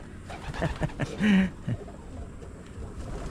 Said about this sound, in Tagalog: Dami ng ibon natin dito, mga wild and yan, pigeons.